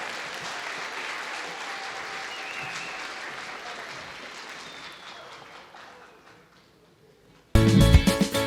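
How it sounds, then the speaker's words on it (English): An audience at a school Reflections awards ceremony applauds the grade 3 through 5 winners, with sustained clapping that gradually fades to silence, followed by a burst of music at the end. "let's give all of our intermediate division grade 3 through 5 winners a big round of applause"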